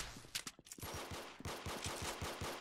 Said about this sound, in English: Oh, the electric revolver,